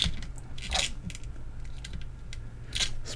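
The joints of a NECA A Nightmare on Elm Street 2 Freddy Krueger action figure creak as they are flexed, making a few short, dry, close-up creaks over a low background hum.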